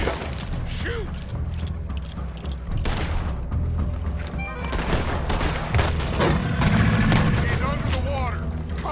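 Repeated gunshots ring out in a Red Dead Redemption 2 swamp as a large creature is fired upon, loud close reports and booms scattered among mechanical clatter and creaks, with people talking over the shooting.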